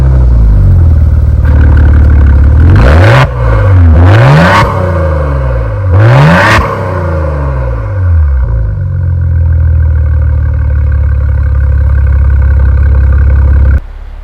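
A Maserati Ghibli SQ4 in sport mode revs hard three times in quick succession, loud close exhaust blips rising and falling, then settles into a steady rumbling idle.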